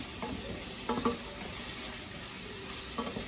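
Garlic sizzles steadily in a hot pan, a continuous bright hiss broken by a few soft clicks of a wooden spoon stirring, close and alone without speech.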